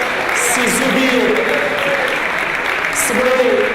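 Audience applause for a team of staff at a French event, a steady dense wash of clapping running throughout, with voices speaking over it.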